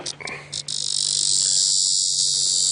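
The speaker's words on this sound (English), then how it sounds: "that's the bug you hear screaming all the time. Actually, I thought this was a redback cicada" A cicada held in hand during a sunrise safari drive gives a loud, continuous, high-pitched buzzing shriek that swells after a few brief opening bursts and holds steady, close up.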